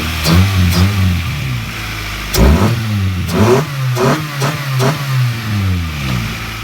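Car engine fitted with a new aftermarket pod-filter airbox revving in a series of sharp blips over a steady idle, each rev rising and falling quickly, close and loud.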